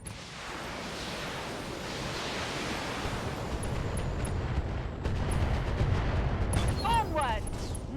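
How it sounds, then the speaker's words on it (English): Guided ammunition salvos fired in the mech game BattleTech, a loud, dense roar of overlapping launches and blasts that swells midway, with a short whistling tone near the end. "allow me to introduce you to 40 rounds of guided ammunition"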